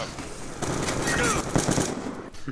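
Machine gun fire in Call of Duty: Black Ops, a sustained rattling burst with sharp cracks, fairly loud amid game noise, with a voice briefly heard over it.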